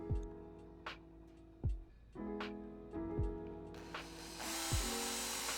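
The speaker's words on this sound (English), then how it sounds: "Pre-drilling some holes for the L nails." A power drill whirs in short repeated bursts as it pre-drills holes in wood for L nails on a papercord bench, with knocks and clatter between runs, close up and no voices.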